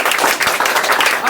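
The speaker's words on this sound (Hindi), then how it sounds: "पहले जोरदार ताली बजाओ" A short, loud burst of applause from a group of children at a live podcast, with dense, fast clapping throughout.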